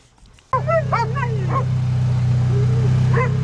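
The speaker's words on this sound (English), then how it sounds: "Oh, the dogs love this. Run, bark some more." Excited dogs outdoors yip and bark in quick clustered bursts, close and loud, with a whimpering whine trailing off over a steady low engine rumble.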